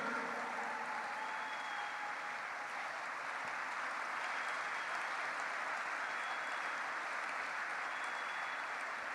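A church congregation applauds steadily and loudly, sustained clapping filling the room without a break, a faint murmur of crowd beneath.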